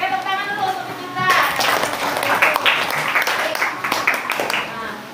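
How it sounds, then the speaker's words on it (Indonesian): A junior high school class claps together in a classroom. Brisk, dense clapping breaks out after a moment of speech and continues loudly to the end, with some voices mixed in. "tepuk tangan dulu untuk kita"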